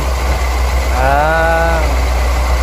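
An overheating Daihatsu Ceria car engine idles with a steady low hum and a radiator open. Partway through, a brief wavering, bleat-like tone rises and falls over the drone.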